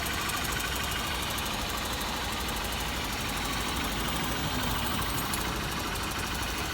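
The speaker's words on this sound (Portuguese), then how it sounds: "Ele ficou com mastigadozinho bem pouquinho devido ao desgaste da válvula" A Honda Bros 150 motorcycle engine idles steadily up close, with a faint, even valve tapping from a worn valve running through the constant hum, and no voices.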